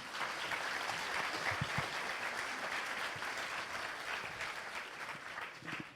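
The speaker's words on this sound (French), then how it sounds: "je vous demande de l'applaudir pour l'encourager" Moderate applause from a conference audience continues throughout, fairly even and somewhat distant, with a few louder individual claps standing out and the clapping easing slightly toward the end.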